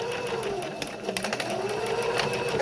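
A sewing machine stitches a fabric hospital mask in a steady mechanical whir with rapid needle clatter, speeding up in short runs near the end, close and alone.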